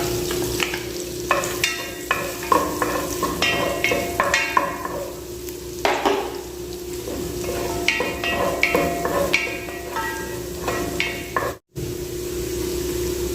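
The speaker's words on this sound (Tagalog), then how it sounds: "Unahin natin yung ating garlic pag-igisa." Garlic sautés in a hot pan, a continuous close sizzle broken by frequent scraping stirs of a spatula.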